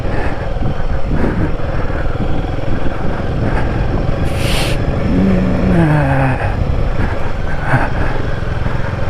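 A motorcycle engine drones steadily while riding on mountain roads, loud and continuous with wind rumble and a brief rising whine partway through; a voice briefly speaks over it.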